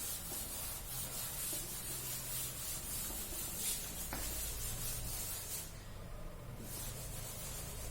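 Steady dry rubbing of an eraser or duster across a board, a continuous scratchy friction that persists through the whole stretch, with a short pause near the end.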